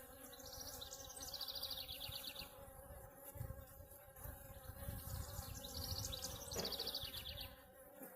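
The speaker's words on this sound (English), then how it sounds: "I'm just tearing a whole clustered bunch of bees apart right now." Honey bees clustered in a swarm trap buzz in a dense, continuous drone close by, swelling and easing slightly as the cluster is pulled apart.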